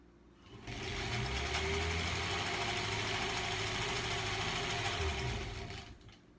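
A sewing machine stitches a quilt strip, starting up with a steady fast mechanical whir that runs evenly for several seconds, fairly faint and close, then stops.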